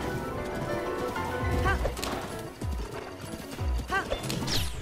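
Horse hooves clip-clop in Zelda: Breath of the Wild, with a run of galloping hoofbeats in uneven bursts over busy game music and ambience, close and fairly loud.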